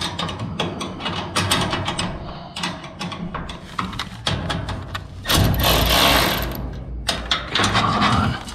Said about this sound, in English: Then the nut and tighten it down. So you need a 9/16 wrench to hold them.